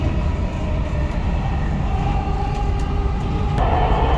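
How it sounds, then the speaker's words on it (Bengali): A Dubai Metro train rumbles past steadily, with a low continuous roar and a faint rising whine near the end; no one speaks. "এই যে একটা আরেকটা ট্রেন গেল"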